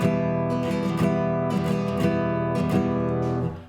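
Guitar chords strummed in a steady rhythm, ringing and sustained, with a few brief pauses between strums before the final chord fades out.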